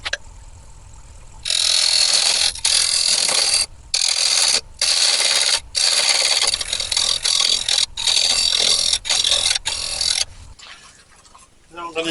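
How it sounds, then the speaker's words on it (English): A beech bowl turned on a wood lathe and cut with a carbide tip tool gives loud, sustained broadband scraping in several bursts separated by brief pauses, ending with quieter lathe hum. "I'm going to go and do that with my new carbide tip tool"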